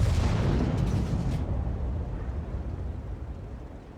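A tank firing standard rounds in a video game, one heavy booming shot that rolls away and fades over several seconds, loud and close, with no talk.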